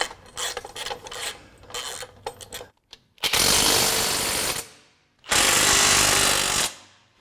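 Power tool driving and tightening front suspension cross member bolts on a Ford F-100 during a Mustang II kit install, with scattered clanks and rattles followed by two long, loud continuous bursts of the tool running up close.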